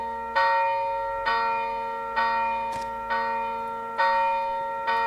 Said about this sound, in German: Die Glocken haben aufgehört zu läuten.